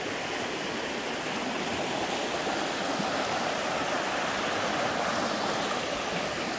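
Flowing stream beside a walking path, a steady loud rushing and babbling of water that fills the whole stretch without breaks or voices.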